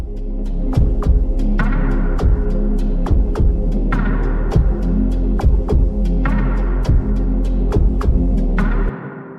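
A kick drum run through the Disperser plugin thumps in a steady, punchy pattern with a deep booming low end, joined by sharp clicky transients and occasional brighter hits, loud and upfront throughout.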